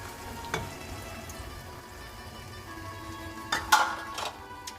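Creamy risotto sizzles softly in a pot on the stove after a cup of vegetable broth goes in, while a spoon stirs it. Scraping bursts come through briefly near the start and again more strongly toward the end.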